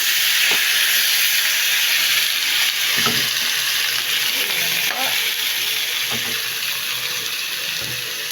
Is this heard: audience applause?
no